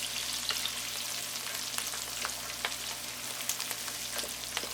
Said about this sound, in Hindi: 1 लार्ज अनियन ले लें। अनियन को ब्राउन करेंगे।